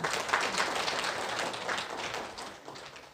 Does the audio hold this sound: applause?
yes